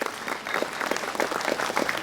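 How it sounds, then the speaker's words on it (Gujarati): An audience at a chartered accountants' keynote event gives hearty applause as Iqbal Mirza is called up, a dense, even burst of clapping throughout with no voices over it. "એકવાર જોરદાર તાળી ઇકબાલ મિર્ઝા સર માટે."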